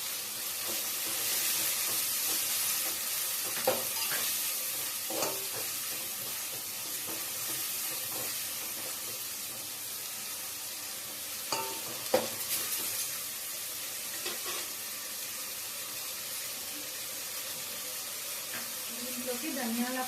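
Chopped tomatoes frying in a pan for khichdi: a steady, moderate sizzle with occasional scraping stirs, while a voice speaks faintly over it.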